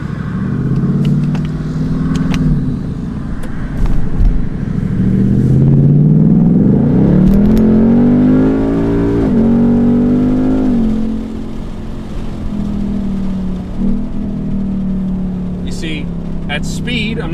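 A Ford Mustang GT with a 10-speed automatic rumbles and revs as it accelerates, the engine note rising and dropping through a downshift, heard loud and close from inside the car before settling to a steady drone.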